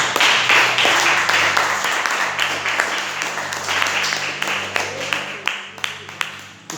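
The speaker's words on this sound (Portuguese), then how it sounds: "desocupa as tuas mãos e aplauda os céus bem forte." A church congregation claps loudly together in a sustained wash of applause that thins out toward the end into scattered individual claps, with a faint voice underneath.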